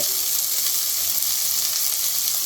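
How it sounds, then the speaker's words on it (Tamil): Small tomatoes, curry leaves and coriander sauté in a hot pan, giving a close, steady, dense sizzle with a bright hiss and no speech over the short stretch. "கொத்தமல்லி கொஞ்சம் எல்லாம் போட்டு வதக்கிக்கலாம்"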